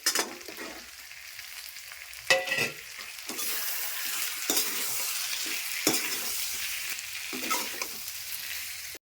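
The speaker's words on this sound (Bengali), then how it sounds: "আমার মশলা কষানো হয়ে গেছে, এখন আলুগুলি দিয়ে দিচ্ছি।" Boiled potatoes are added to Bengali spice masala frying in a pan for aloo dum, with a continuous loud sizzle, a sharp burst as the potatoes go in, and repeated scraping stirs throughout.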